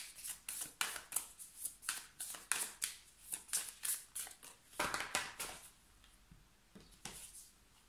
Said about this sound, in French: je vais tirer une petite carte supplémentaire